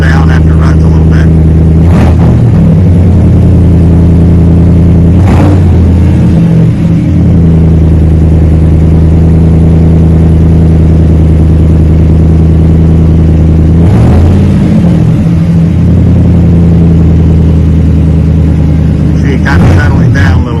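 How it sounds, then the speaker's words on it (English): A 2021 Chevrolet Silverado pickup with a Flowmaster Super 44 muffler running after a cold start, a loud, steady, deep exhaust drone at close range with a few brief surges, while someone talks over it. "Start up, the cold start's got a little rasp to it, but kind of settles down after it runs a little bit."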